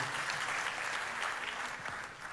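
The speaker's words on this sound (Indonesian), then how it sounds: "Berikan tepuk tangan buat Tuhan." Sustained applause from a church congregation, broad and steady for the whole stretch, fairly distant and evenly spread with no voices standing out.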